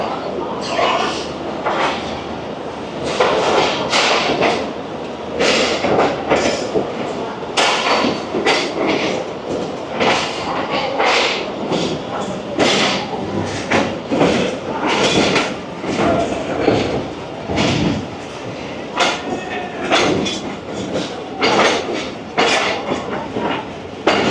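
The Jaffar Express passenger train runs from Lahoro toward Quetta, a loud continuous rumble with rhythmic clickety-clack and rattling carriages throughout, with faint voices mixed in.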